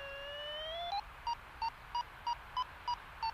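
A FrSky G-RX8 vario sounds in a rough thermal: a rising electronic tone sweeps upward, then breaks into a steady series of short, evenly spaced high beeps over faint background hiss.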